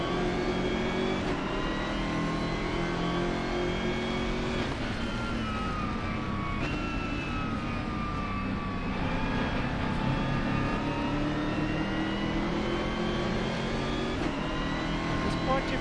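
A BMW GT3 race car's engine drones steadily onboard at Mugello Circuit in a sim racing game, rising and falling through gear shifts and revs, with a commentator talking over it throughout.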